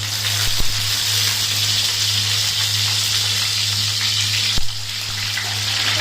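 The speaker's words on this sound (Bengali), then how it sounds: "এবার বেগুনগুলো আস্তে আস্তে আমি দিয়ে দিই।" Eggplant slices fry in oil in a pan with a continuous hissing sizzle, like gushing water. A low steady hum runs underneath, and there are two short clicks.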